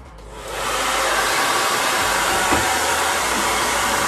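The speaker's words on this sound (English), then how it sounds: "when you put the hair dryer in the corner, it creates a vortex all around it" A hair dryer on its cool setting, used at home for drying a dog's coat in a corner, starts up and then blows with a loud, steady, close whoosh and no speech over it.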